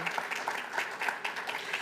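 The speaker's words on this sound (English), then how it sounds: "I think that's worthy of a hand clap." Soft, steady applause from an audience at an elementary school ribbon cutting, a continuous wash of many hands clapping at a distance, fairly quiet throughout.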